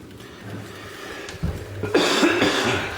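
A man gives a couple of close, short coughs indoors at a workbench during a clock regulator rebuild, with a faint clatter around them.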